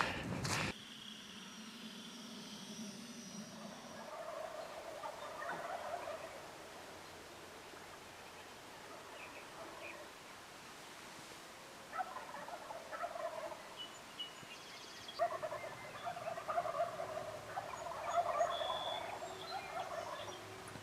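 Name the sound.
wild turkeys gobbling at roost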